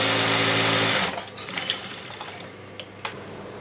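A sewing machine stitches a patchwork designer chudidhar, its motor humming loudly and evenly for about a second before stopping, followed by faint clicks and handling noises of the fabric and machine.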